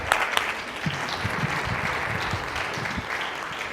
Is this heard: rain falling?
no